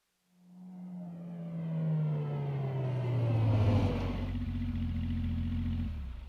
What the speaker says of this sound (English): Suddenly, the sound of a car engine broke the silence.